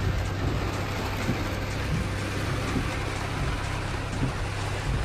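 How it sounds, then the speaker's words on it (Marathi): Rain falling all around outdoors, a dense, even hiss of drops that holds steady throughout with no talk over it. "आता चहूकडे पाऊस सुरू झालेला आहे, तुम्हाला मी दाखवतो."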